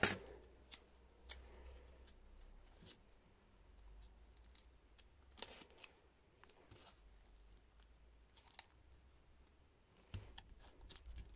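Scissors snip through paper in short, crisp cuts spaced irregularly, close and quiet, with faint handling sounds between them while assembling a mini pop-up paper structure.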